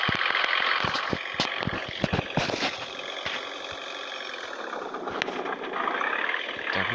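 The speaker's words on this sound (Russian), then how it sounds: "тут все звуки двигателей одинаковые" Minibus engine in a Russian minibus driving simulator game, a steady mid-level hum with a rumbling idle that dips and then swells again, accompanied by clicks and small knocks and with no one talking.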